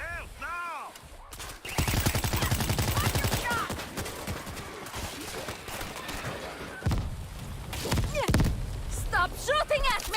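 Rapid bursts of automatic gunfire and heavy thuds in the zombie shooter World War Z, rattling on through most of the stretch while someone shouts and talks over the shooting.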